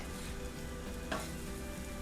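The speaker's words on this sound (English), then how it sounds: "We'll stir those shrimps up." Shrimp sizzle steadily on a hot griddle, quiet and close. A single short scrape of stirring cuts through midway. No voices.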